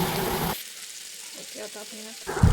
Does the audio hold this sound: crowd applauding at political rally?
no